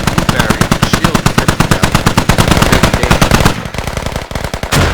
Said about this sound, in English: 50 cal now operational on the roof.